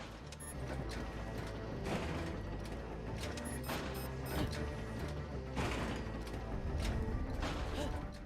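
An elevator mechanism in the game Borderlands: The Pre-Sequel, giving continuous mechanical grinding and clanking with creaks, set within a dense game soundscape.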